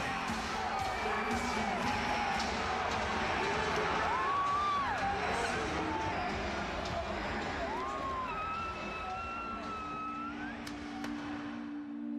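A large wrestling arena crowd roars and cheers after a controversial Bret Hart moment, a steady wash of noise with whistles and shouts rising above it.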